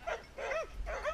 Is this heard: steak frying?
no